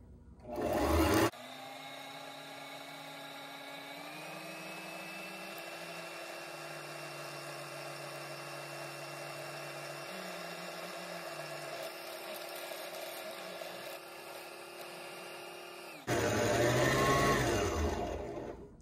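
A Singer Start 1304 sewing machine winds a bobbin in one long steady whir lasting many seconds, its pitch shifting slightly, with louder bursts of handling noise at the start and end.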